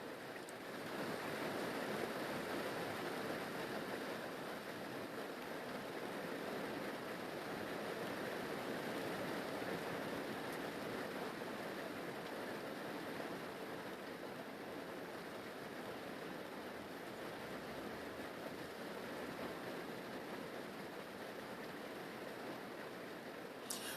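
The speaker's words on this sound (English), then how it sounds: "the rain really just, it really picked up" Heavy rain pours outdoors in a steady, dense roar that holds at an even loudness for the whole stretch, with no voices over it.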